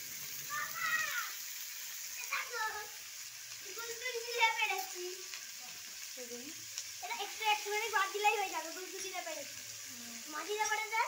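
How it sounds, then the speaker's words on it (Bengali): New potatoes frying in a pan, a soft sizzle beneath someone talking almost continuously, with occasional stirring, faint and close. "এবার আমি এখানে আলু ভাজছি।"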